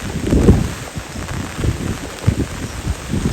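Heavy rain falls outdoors with gusting wind, a steady broad hiss with rumbling buffets on the microphone throughout and no talking.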